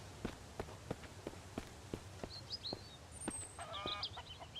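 Chickens cluck and squawk softly over a regular series of light footsteps, all fairly faint and game-like in tone.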